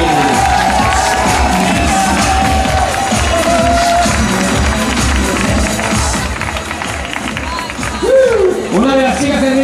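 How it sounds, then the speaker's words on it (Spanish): A live audience cheers and applauds at a tribute show, a loud, dense crowd roar sustained throughout, with music and a voice rising over it near the end. "Pues bien, gente, que de fuerte aplauso para Dani."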